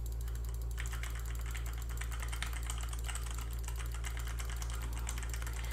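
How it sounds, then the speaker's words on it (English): Typing on a computer keyboard about 15 inches from the microphone, a steady run of fast, light clicks that continues for several seconds over a constant low hum from a running air conditioner. "The keyboard is a few inches away from the mic, probably 15 inches far."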